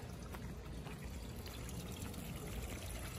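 Water from a garden hose pours steadily into a backyard fish pond, a continuous close splashing and trickling that holds at an even level throughout with no voices.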